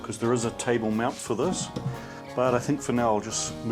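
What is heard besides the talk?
No everyday noises stand out.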